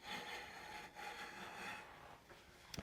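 A gouge cuts across a wooden salad bowl on a lathe, giving a steady, close scraping and rasping hiss with a brief dip midway and a couple of sharp ticks at the end.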